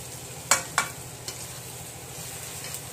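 Cumin, chilli, pepper and chicken masala powders frying with saltwater tiger prawns in a pan: a soft steady sizzle with two sharp spatters near the start and a fainter tap later, no talk.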